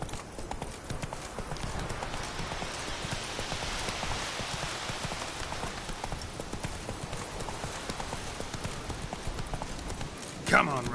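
Roach the horse gallops in The Witcher 3, with fast, steady hoofbeats pounding throughout and light rain-like patter underneath, plus a brief sharp sound near the end.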